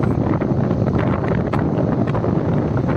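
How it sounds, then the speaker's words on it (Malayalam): Strong wind roars and buffets the microphone in a steady, loud rush with no pauses, on a damaged stretch of national highway. "വീഡിയോസിൽ തന്നെ കേൾക്കേണ്ട കാറ്റിൻ്റെ ശബ്ദം"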